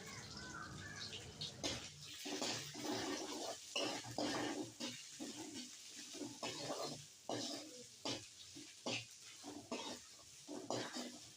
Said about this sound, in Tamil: இது கூட துருவிய தேங்காய் சேர்த்து ரெண்டு நிமிஷம் வதக்கி எடுத்துக்கலாம்